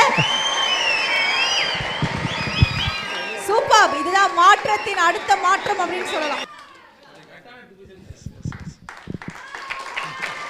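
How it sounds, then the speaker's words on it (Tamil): An audience at a stage event gives a short burst of clapping amid music and chatter, then voices speak over a quieter room with scattered claps. "ஒரு கைத்தட்டல் கொடுத்துடலாம்"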